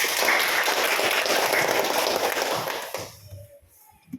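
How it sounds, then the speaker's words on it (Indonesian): Classroom applause from a group of students, a lively patter of many hands clapping close by for about three seconds, then quickly dying away into near silence with a faint voice afterward. "Kasih tepuk tangannya untuk kawannya yang 2 orang"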